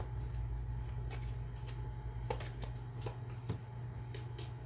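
Tarot cards shuffled by hand in a quiet room, a steady papery riffling with sharp snaps and flicks scattered through, close and fairly loud with no voice.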